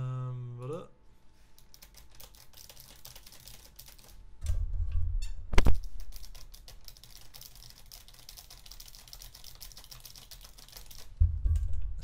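Someone types on a computer keyboard with flat keys, a fast steady patter of light clicks going on for several seconds, with a few louder thumps and brief voice at the start.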